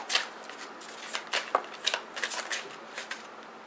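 Tarot cards being shuffled and drawn close up, a run of quick papery riffles and flicks with brief soft slaps, fairly quiet and with no talking.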